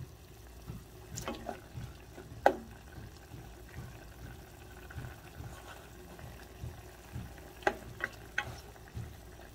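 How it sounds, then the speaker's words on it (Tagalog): Garlic fries in a pan for adobo, giving a soft, steady sizzle with faint stirring scrapes and a few clinks, heard close and quiet. "Hulog po natin yung bawang. Kasi maluluto na siya."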